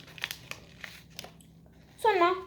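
A tea bag wrapper crinkles in short, soft bursts, then a louder rustle follows as it is torn open close by. A voice is heard briefly.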